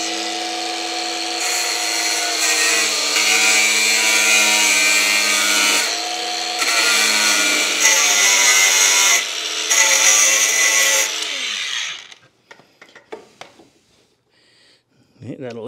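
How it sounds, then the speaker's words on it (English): An angle grinder cuts through wood on a workbench mobile base, giving a loud, high-pitched whine that shifts in pitch through the cut, then stops and gives way to faint handling noises near the end. "So I'm going to take my angle grinder."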